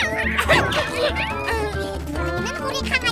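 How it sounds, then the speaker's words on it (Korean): Cartoon dog barking and yipping in a children's animated space show, short excited barks repeating over busy background music and sound effects, with characters talking around it. "누렁이는 우리 강아지라고"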